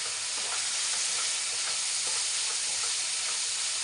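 Onions sizzle steadily in a hot pan while being cooked down for tomato gojju, a continuous bright frying hiss with faint stirring scrapes throughout, close and alone with no talking.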